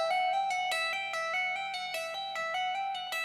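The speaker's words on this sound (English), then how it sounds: "we are focusing now on doing both hammer-ons and pull-offs in the same thing," Electric guitar notes linked by hammer-ons and pull-offs on a single string, a clear ringing legato run with a steady rhythm of attacks, played alone and close.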